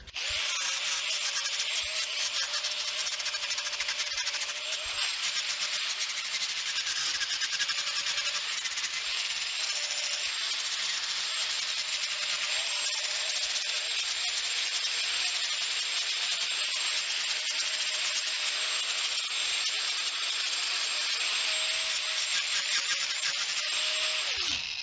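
An angle grinder carves and shapes the wooden neck joint of a handmade guitar, a steady high-pitched whine with grinding rasp that runs continuously and close for the whole stretch, no voices over it.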